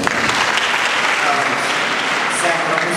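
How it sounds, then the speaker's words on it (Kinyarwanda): A church congregation applauds God in a loud, dense, sustained burst of clapping. Voices and cheers mingle in the crowd noise underneath. "Muhe Imana amashyi."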